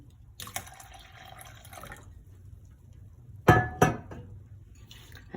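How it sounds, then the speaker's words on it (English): Barley grains and lentils tipped into a pot of water for a spiced soup: a soft rattling pour, then two sharp clinking splashes close by, with quiet kitchen stillness around them. "put the grains in"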